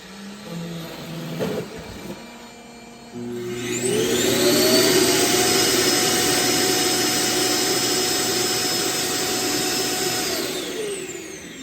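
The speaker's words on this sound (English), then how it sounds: "that little spot right there is where it sucks the stuff out of the bin and into the bag" An iRobot Roomba J7+ docking station evacuating debris from the robot's bin into its bag: after some quieter mechanical sounds, a loud, close, sustained suction roar starts with a rising whine, holds steady for several seconds, then winds down.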